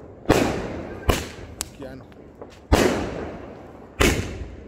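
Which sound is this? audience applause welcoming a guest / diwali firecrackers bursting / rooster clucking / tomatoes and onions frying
diwali firecrackers bursting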